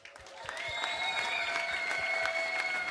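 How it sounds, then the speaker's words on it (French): An audience at a live session for young regional artists breaks into steady applause that swells quickly and holds, with a few whistles and cheers mixed into the clapping. "On applaudit tous Gomar, s'il vous plaît."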